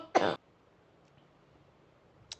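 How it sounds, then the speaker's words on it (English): A single sharp cough or throat-clear sounds close by, then near silence and a faint second tiny cough at the end. "I'm sorry for coughing."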